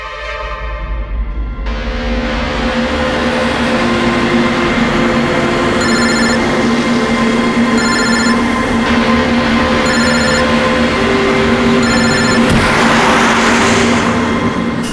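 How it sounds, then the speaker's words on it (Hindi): Unanswered landline telephone ringing in repeated evenly spaced bursts of electronic trilling, loud over a steady drone of a moving car's engine and music throughout. "कब से लैंडलाइन पे फोन कर रहा हूं सर, फोन ही नहीं उठा रहे।"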